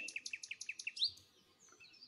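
A blue jay gives a quick, evenly spaced run of about ten sharp, bright calls and ends with one louder squeal, then falls quiet; faint and alone.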